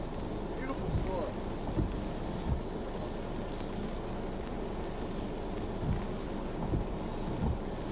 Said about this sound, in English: You can see a beautiful storm out in front of me here.